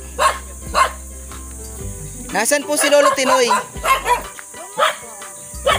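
A dog barks repeatedly nearby, sharp loud yaps spaced irregularly, while a person speaks between the barks.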